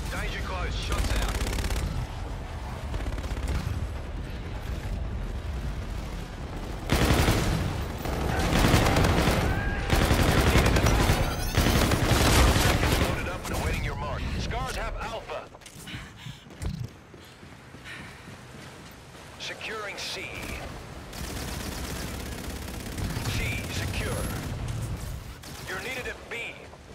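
Sustained video game gunfire during a team objective match, with heavy automatic bursts and explosive shots, loud and dense at first, then thinning into sporadic shots under radio-style voice callouts.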